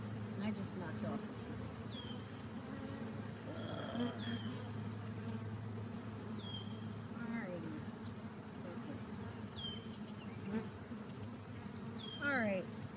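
Honey bees buzzing around an opened, heavy hive box at an apiary: a dense, continuous hum of many bees, with individual bees whining past close by now and then and a person talking briefly.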